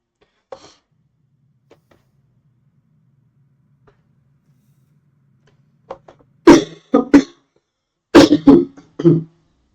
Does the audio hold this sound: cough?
yes